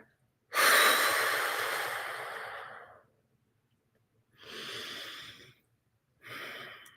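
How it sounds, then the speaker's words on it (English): A person exhales slowly and fully in a long, audible breath out lasting over two seconds, followed by two shorter, softer breaths, close and alone with no talking. "breathe all of your air out"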